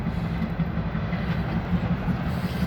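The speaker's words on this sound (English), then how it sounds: "Train's passing by, I don't know why." A train rolls past at New Paris, Indiana, as a steady, continuous low rumble with a droning hum that holds level throughout, with no voices over it.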